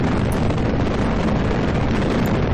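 A rocket main engine in Kerbal Space Program gives a loud, steady, unbroken roar of broadband rumble throughout, with no voices over it.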